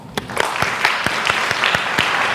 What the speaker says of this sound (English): let's give Isaac another round of applause